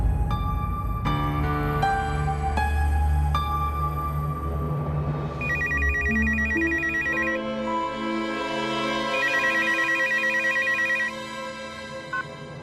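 A telephone rings with a bright electronic ringtone, repeating melodic chimes and trilling patterns that fill the room steadily before cutting back near the end.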